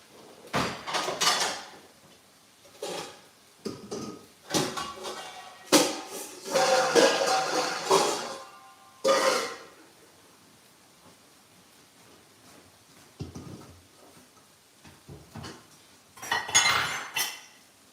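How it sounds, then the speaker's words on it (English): Kitchen handling while making meatballs at home: metal strainer, pots and cutlery clatter and clink in scattered bursts, close and moderately loud, separated by quiet pauses. "So I'll be grabbing the strainer so that I can put our meatballs inside."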